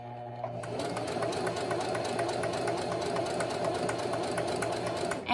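A sewing machine runs steadily while stitching a dart in fabric, a continuous close whirring hum with fast rhythmic needle clatter, alone with no talking.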